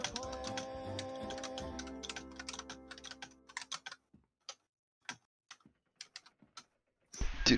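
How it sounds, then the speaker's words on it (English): Rapid computer keyboard typing, dense overlapping clicks at first that thin into scattered, isolated keystrokes with gaps of silence, ending in a louder burst, close and without talk. "Bacon out here typing ferociously"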